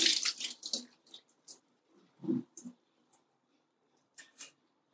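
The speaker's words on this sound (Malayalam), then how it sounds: "ഇനി ഒരു 2 വെള്ളം കൂടെ ഒഴിച്ച് നമുക്ക് നല്ലവണ്ണം കഴുകി എടുക്കാം" Water poured over soya chunks being washed for a kootu curry, heard as a few short splashing bursts with quieter gaps between them and no talk.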